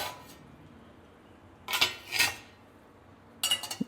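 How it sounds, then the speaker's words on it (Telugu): Metal clanks and scrapes against a cooking pot come in short bursts as curry with potatoes and palak is stirred, followed by a lid being set on with a clink, against a quiet kitchen. "బాగా మిక్స్ చేసేసి మూత పెట్టి ఒక 2 మినిట్స్ కుక్ చేసుకోండి"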